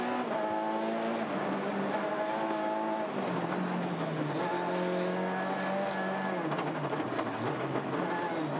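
A rally car races along a snowy Monte Carlo Rally stage near St Bonnet Le Froid with narrow tyres, its engine note rising and falling through gear changes at close range, joined by excited commentary.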